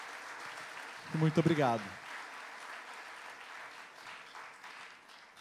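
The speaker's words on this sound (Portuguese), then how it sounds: "Palmas para eles." Audience at a French song festival in São Paulo applauding the jury, a soft, diffuse patter of clapping at moderate distance, with a voice speaking briefly over it early on.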